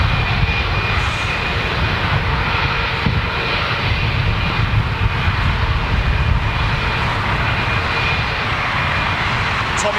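Boeing 747 jet engines on the airliner's final flight, a loud, steady roar with a broad rumbling low end that holds without a break for the whole stretch, no voices over it.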